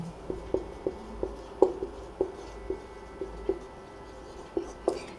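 Pen tapping and scratching on paper while working a class 12 maths proof, a regular series of short, distinct strokes roughly every half second, close and moderately quiet.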